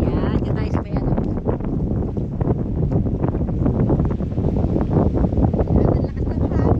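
Strong wind buffets the microphone in a continuous low roar, gusting unevenly throughout, loud and close.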